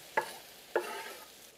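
Garlic and chopped tomatoes cook in a pan for an Afghan leek dumpling dish, giving two sharp stirring scrapes followed by a soft, steady sizzle close by, with no talking.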